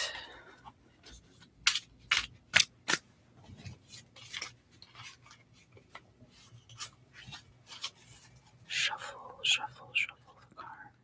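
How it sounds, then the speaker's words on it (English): A deck of playing cards shuffled up close in a quiet ASMR setting: a string of crisp snaps and riffling slaps, then a softer rustling flurry toward the end, with faint whispering underneath. "Shuffle the cards."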